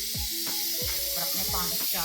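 Steam hisses steadily from a pressure cooker of beef for biryani as the whistle is lifted, with short clattering knocks and a rising squeal over the continuous rush.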